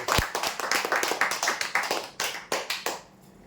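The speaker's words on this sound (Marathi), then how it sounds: "जोरदार टाळ्या" A crowd at a weekly lottery prize draw breaks into brisk, fairly close clapping that holds steady for about three seconds and then stops abruptly.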